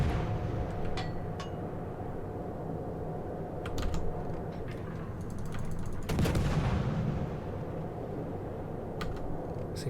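Naval artillery fire in the World of Warships naval combat game: a few sharp gunfire bursts, the loudest near six seconds, over a steady low rumbling game ambience, with no talk.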